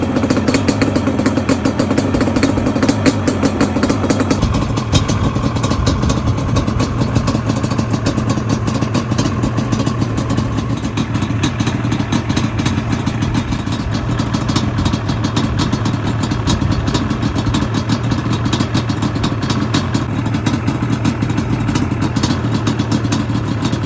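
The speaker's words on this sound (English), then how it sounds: "Alright, so that is the 1997 Alba Banshee." 1997 Yamaha Banshee quad engine running, a loud raspy two-stroke buzz held close and steady, shifting slightly in pitch partway through with mechanical clatter underneath.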